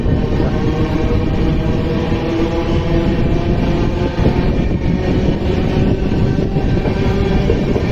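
The Janshatabdi Express, train 12080 from Hubballi to Bengaluru, hauled by an electric locomotive with LHB coaches, runs at speed past Haveri. A loud, steady rolling roar and wheel rumble is heard from inside for the whole stretch, with no voices.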